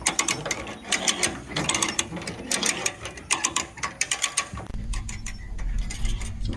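Come-along winch ratcheting to pull a trailer under a large steel culvert pipe, with quick rhythmic metallic clicks and clanks, close by, then a low rumble near the end.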